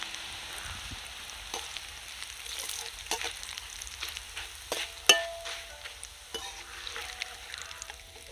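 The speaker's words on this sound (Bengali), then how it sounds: "তেল গরম হয়ে গেছে বন্ধুরা, এবার চিড়েগুলো দিয়ে দেবো," Flattened rice (chira) dropped into hot white oil in a kadai, giving a soft, close crackle and sizzle with a few stirring knocks and one sharper clink midway.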